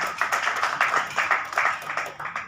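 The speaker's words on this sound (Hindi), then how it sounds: "उनके लिए भी जोरदार ताली" Enthusiastic applause from the members at a Lions Club Gwalior Disha board meeting, a steady wash of many hands clapping together for about two and a half seconds with no talking over it.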